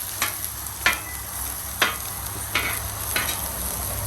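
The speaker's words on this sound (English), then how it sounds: "That's how you saute onions" Onions and mushrooms sautéing in a pan with a steady bright sizzle, punctuated by about five sharp scraping flips spaced roughly a second apart.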